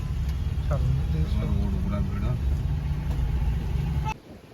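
A vehicle engine idles and rumbles steadily while someone parks in a crowded evening spot at Naraj near Cuttack; a low, continuous drone runs under someone talking and stops abruptly near the end.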